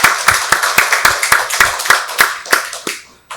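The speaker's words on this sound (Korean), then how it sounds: "박수로 하나님께 영광 돌리겠습니다." A church congregation claps together at a Sunday worship service, a short burst of fairly rhythmic hand claps that fades away near the end.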